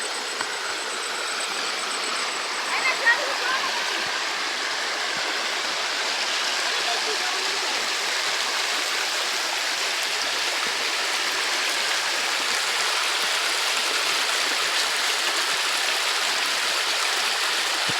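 A waterfall pours in a steady, dense hiss and rush of falling water, continuous and fairly close, with faint voices now and then.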